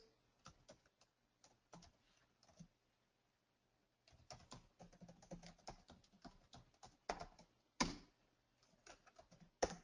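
Typing on a computer keyboard while coding: irregular bursts of close, crisp key clicks, a short flurry at first, then a pause, then longer and denser runs of taps with a few harder strokes, no talking.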